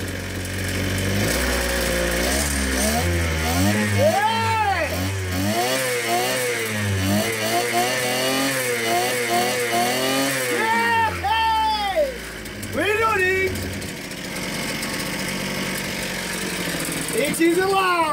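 A Ryobi 410 cultivator engine fires up and runs close by, its pitch swinging up and down in uneven revving surges before it settles to a steadier idle, with a voice talking over it.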